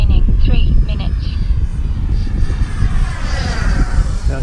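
An FMS Avanti S 70mm V3 electric ducted-fan RC jet on its maiden flight, a loud continuous whooshing whine that swells and shifts as it passes overhead.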